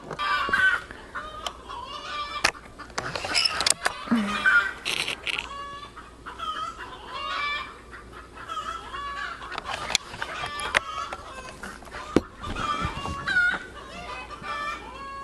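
Chickens cluck and squawk repeatedly in a backyard setting, close and lively, with irregular bursts and an occasional rooster-like call, plus sharp intermittent knocks in between.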